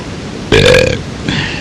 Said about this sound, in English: I just burped with a mouthful of